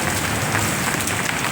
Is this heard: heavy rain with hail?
yes